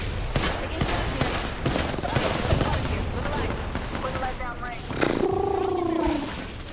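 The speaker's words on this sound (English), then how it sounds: "The enemies are shooting at me. Taking fire." Sustained gunfire in the video game Apex Legends, a dense clatter of shots mixed with game effects and voice lines throughout, ending in a sweeping tonal effect.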